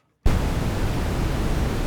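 Pink noise from the noise source of a Korg MS-20 Mini synthesizer switches on abruptly after a brief silence and holds as a loud, steady, full-bodied hiss with no voices.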